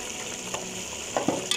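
Ground chilli, turmeric and black pepper roasting in a pan, a brief close sizzle with a few sharp scraping stirs toward the end, no voices.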